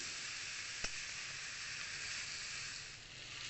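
Bitter gourd fries in a pan with oil, a soft steady sizzle and hiss throughout, with a single brief click or tap near the start.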